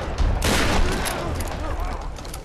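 Gunfire from a headshot in the Tomb Raider video game, a loud burst of shots around the half-second mark with dense crackling and a rumbling tail, set against busy game background noise.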